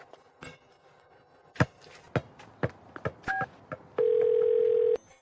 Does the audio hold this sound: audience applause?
no